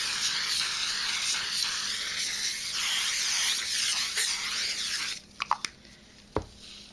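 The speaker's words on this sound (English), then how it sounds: "you get your basting spray. We'll use this one first because it's almost empty. Spray your felt." An aerosol can of basting spray, nearly empty, hisses onto felt in a continuous close spray lasting several seconds, then stops, followed by a few soft handling taps and clicks.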